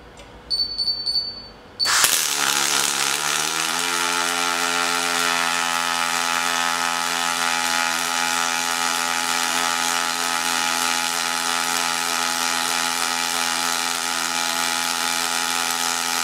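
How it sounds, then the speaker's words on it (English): Robotic seam welder starting up after a short beep, then a steady, loud buzzing hiss with a constant hum holding evenly throughout, close by and with no talking. "I'll turn my welding on and press start."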